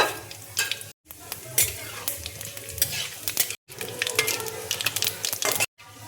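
Dried red chillies and five-spice seeds sizzling and frying in hot oil in a kadai, with steady crackling and repeated stirring scrapes, loud and close, broken by a few brief silent gaps.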